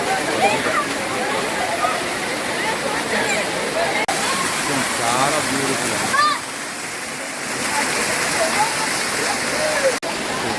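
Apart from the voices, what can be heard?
waterfall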